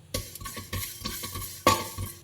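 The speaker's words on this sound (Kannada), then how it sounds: "ಈಗ ಇದನ್ನ ಸ್ವಲ್ಪ ಲೈಟಾಗಿ ಫ್ರೈ ಮಾಡ್ಕೊಳ್ಳೋಣ." Fenugreek and cumin seeds lightly frying in a pan for a sardine curry, with a soft sizzle broken by several sharp stirring scrapes and clinks of a utensil against the pan.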